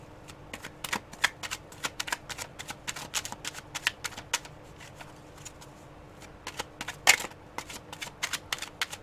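Tarot cards are shuffled by hand in quick, crisp riffles and taps, a dense run of papery flicks close to the listener at a soft level, with no voices.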